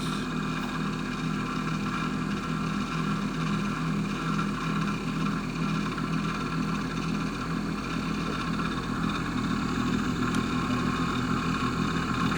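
Homemade 8-inch rotor with nine magnets spinning at about 2,300 RPM, giving a steady, constant mechanical hum and whir with no change in pitch, moderately quiet and continuous.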